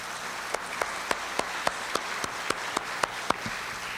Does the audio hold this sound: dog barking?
no